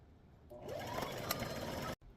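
A sewing machine stitching over an apron strap, a short close whirring run of about a second and a half that starts after a brief pause and cuts off abruptly.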